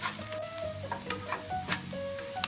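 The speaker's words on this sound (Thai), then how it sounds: "ก็ผัดหอมให้สุกนะครับ ให้พอเหลืองๆนะครับ" Onions are stir-fried in a pan until golden for a shrimp curry powder dish, with a soft sizzle under the light scrape and clink of a utensil stirring, close and fairly quiet.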